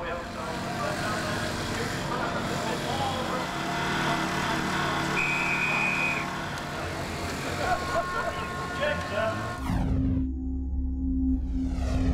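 Racing motorcycles launch at the start of a Lloyds British GBmoto race, engines roaring loudly together in a dense, sustained wall of sound beneath a commentator's voice before cutting to a sharper, closer engine whine.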